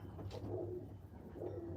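A racing pigeon coos in a loft, with two soft, throaty rolling coos close by and no talking.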